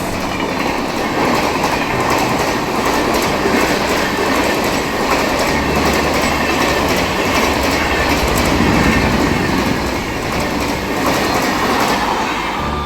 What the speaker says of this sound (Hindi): महाबोधि एक्सप्रेस ट्रेन सामने से अराइवल ले रही है 2 नंबर प्लेटफॉर्म पे प्रयागराज चौकी पे